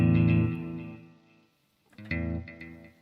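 An electric Strat-style guitar played through a Hotone Ampero with reverb rings out in a sustained chord that decays into near silence, then a second strummed chord swells up with a shimmering, chorused tail.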